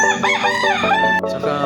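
A rooster crows loudly and close, one long harmonic cock-a-doodle-doo with rising and falling notes followed by short clucks, no talk over it.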